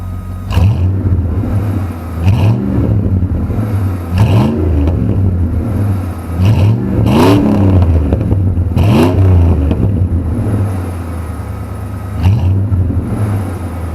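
Old pickup truck V8 engine idling with a deep rumble, then repeatedly blipped in short revs, about six rising surges spaced a couple of seconds apart, loud and close with no talk.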